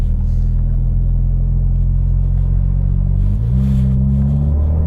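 Mitsubishi Evo X MR with an SST transmission and built clutch, accelerating hard in second gear: a loud, steady engine drone whose pitch climbs, then steps just past the three-second mark, heard from inside the car with no voices.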